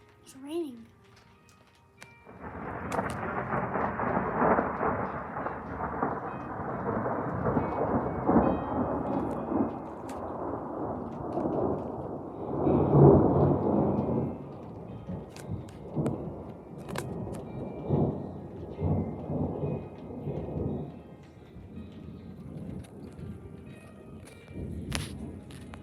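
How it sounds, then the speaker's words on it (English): A thunderstorm with a loud, close rumble of thunder rolling for many seconds over steady rain, with another swell midway and fading grumbles afterwards as a person speaks briefly at the start. "It's raining."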